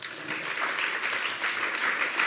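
Steady applause from an audience at a French panel discussion on cryptocurrency regulation, a dense even wash of clapping that holds at a constant level for the whole stretch with no voices over it.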